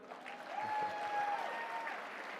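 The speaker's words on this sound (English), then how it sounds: "Give yourselves a round of applause for waking up this early." Audience applause fills a conference hall at CPAC 2019, a steady wash of clapping from a large crowd that holds at an even, moderate level for a couple of seconds with a faint whistle-like tone running through it.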